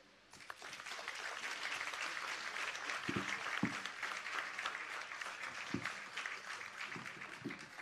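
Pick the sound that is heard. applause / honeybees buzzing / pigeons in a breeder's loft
applause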